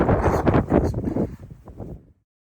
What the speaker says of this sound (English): at Cold Spring Gap, a windy night.